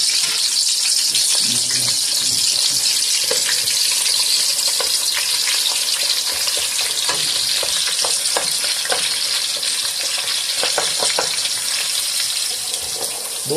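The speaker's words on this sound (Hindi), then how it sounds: "ऑयल ये गर्म हो गया तो उसमें हम ये बारीक कटा हुआ जो प्याज है ये डालेंगे।" Finely chopped onion frying in hot oil for a Mutton Nihari, a steady loud sizzle and crackle throughout with occasional stirring clicks and scrapes, no talking over it.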